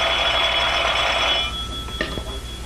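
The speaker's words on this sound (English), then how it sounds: "When you hear the tone of the gong, it will be exactly 12 o'clock and 6 split seconds." A telephone time signal tone from an old film rings out as a sustained, bright electronic tone for over a second, then cuts off, followed by a few faint clicks.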